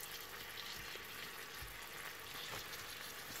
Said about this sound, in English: break it up further with my spatula as well, and give that a quick little browning off in the lovely juices that are coming off the onions